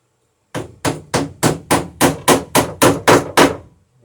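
Rapid hammer blows ring out on copper rivets backed by a bucking iron on dory planks, about eleven sharp, evenly spaced strikes, close and loud, with no talking.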